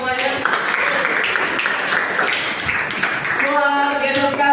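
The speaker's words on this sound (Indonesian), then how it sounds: "Tepuk tangan dulu buat semuanya." School class clapping for classmates presenting wood miniature projects, scattered applause under a voice speaking in the room.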